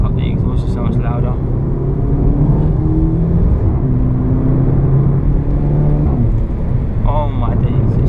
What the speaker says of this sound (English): now you can't even hear the fake noise because the exhaust is so much louder